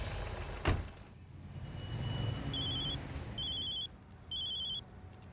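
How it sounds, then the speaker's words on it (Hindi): A telephone rings in short repeated bursts with high electronic tones in two or three rings, fairly faint over a low background rumble of traffic, after a single sharp knock near the start. "लो, आ गया फिर से डीएसपी सर का फोन।"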